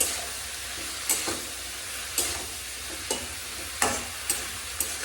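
Bitter gourd slices frying in oil with salt and turmeric, a constant close sizzle punctuated by regular scraping stirs of a spatula against the pan.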